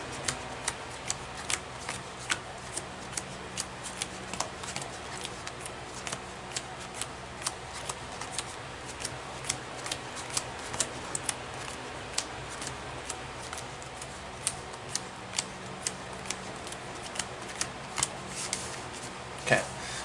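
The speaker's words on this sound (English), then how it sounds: "we are shuffling up the deck right now" A deck of Dragon Ball Z trading cards is shuffled continuously, giving a steady run of quick, soft crisp riffles and taps close up for the whole stretch, with a person talking quietly over it.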